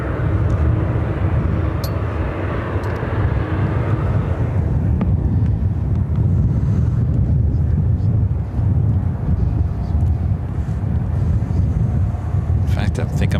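A FedEx MD-11 jet at Chicago O'Hare, a broad steady roar with wind buffeting the microphone, easing off after a few seconds into a lower rumble.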